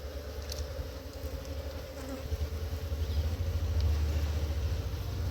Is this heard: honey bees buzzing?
yes